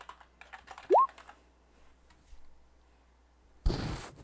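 Typing on a computer keyboard at a desk, a quick flurry of light clicking keystrokes, close and clear, followed by a brief louder clatter near the end.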